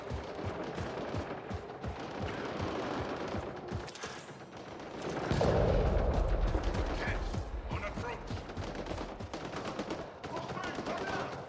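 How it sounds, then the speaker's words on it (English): Bursts of rapid gunfire crackle in the video game Mass Effect Andromeda, with a heavier blast midway, mixed with game-like background sounds and occasional voices. "I hear gunfire"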